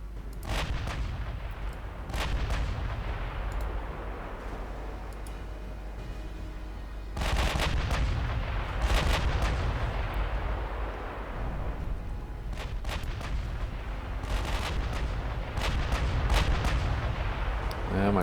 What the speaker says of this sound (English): my ships are shooting mostly HE, but well, it seems to be working